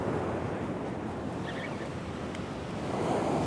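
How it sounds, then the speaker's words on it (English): Steady roar of surf surging up and back on a steep beach, loud and close with wind buffeting the microphone throughout, no voices. "you just got to be patient in the surf here. It's really surging back at the moment."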